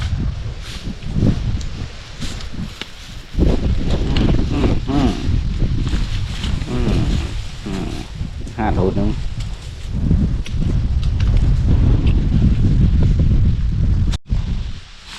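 Strong stormy wind roars and buffets steadily outdoors, with gusty rustling and wind noise on the microphone that swells louder toward the end.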